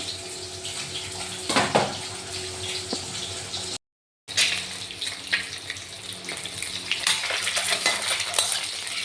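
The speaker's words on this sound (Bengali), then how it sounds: "ডিমটাকে ভেজে নিই, আলুটাকে ভেজে নেব" Hot oil sizzling as a boiled egg rubbed with salt and turmeric fries in a pan, a continuous hiss with sharper spits and crackles, briefly cut off partway and then resuming louder.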